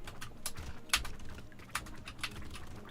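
Computer keyboard typing during a Brotato live stream, scattered quiet clicks and clacks at an irregular rhythm with a few sharper key hits, close to the microphone over a low background hum.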